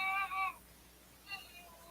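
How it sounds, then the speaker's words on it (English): An angry cat gives a drawn-out, wavering meow, then a shorter, fainter cry about a second later against a quiet background. "It sounds like an angry cat."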